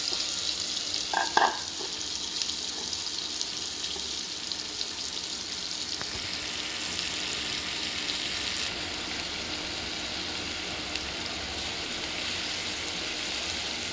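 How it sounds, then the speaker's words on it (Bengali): Chopped onion, about half a cup, sizzles steadily in a pan while frying toward brown for a river pangas fish dish, a continuous hiss with a brief clatter near the start. "পেঁয়াজ কুচি বাদামি রং করে ভেজে নেব।"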